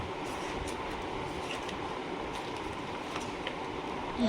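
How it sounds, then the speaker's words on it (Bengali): Train rumbling steadily nearby, a continuous low roar with faint rail clatter throughout and a brief squeal near the end, while someone talks. "ট্রেন গাড়ি এইদিকে"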